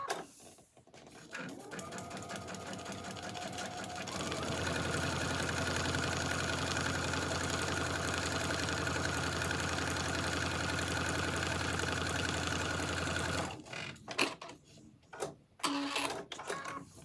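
A sewing machine stitches foundation paper piecing for a quilt block, running in one steady, sustained whir for about nine seconds after a brief start, then stopping, with scattered handling noises before and after.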